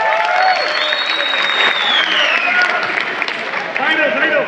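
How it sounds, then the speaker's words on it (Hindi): Audience applause at a speech event in New Delhi, a dense, steady burst of clapping from a crowd, fairly close and loud, with some voices mixed in. "जबरदस्त तालियां सर के लिए।"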